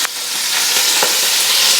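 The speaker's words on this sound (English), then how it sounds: "you're going to get more of the sizzle" Food sizzling loudly in a pan, a dense continuous hiss of frying with a few sharper crackles and pops, close up, steady and without talk.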